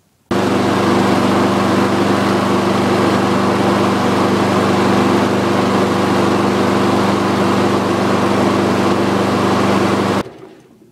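A petrol lawnmower engine kicks into life and runs at a steady, loud, even drone for about ten seconds before cutting off abruptly, with no talk over it.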